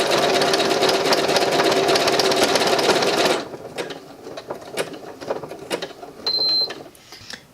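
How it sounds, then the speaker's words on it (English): A Maker Machine sews a small circular stitch on a felt poppy, its steady mechanical whirr running loud and close for about three seconds, then stopping to leave faint clicks and a short beep. "it just does a really small circular stitch all the way round"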